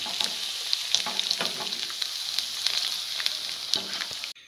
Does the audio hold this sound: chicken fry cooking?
yes